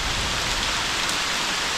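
Heavy rainstorm pouring down outdoors, a loud, unbroken hiss of dense rain hitting surfaces with no breaks.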